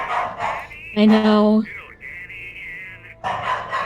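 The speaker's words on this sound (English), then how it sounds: "I'm sorry about the dogs." Dogs in the video game Alan Wake bark and whine in a short harmonic burst, followed by a thinner sustained tone, with people talking before and after.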